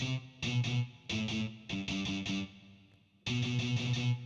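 Guitar chords ring out in bursts with a soft reverb tail, pausing briefly between strums and ending in a sustained, washy chord.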